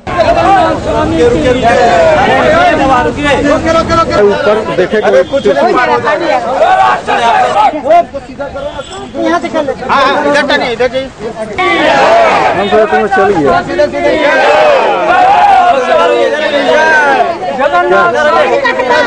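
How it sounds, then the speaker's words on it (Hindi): Crowd of devotees at a Jagannath temple, a dense babble of many voices chattering and calling out at once, continuous and loud with brief dips, a close-up throng rather than distant. "इस अवसर पर भक्तों की काफी भीड़ लगी थी।"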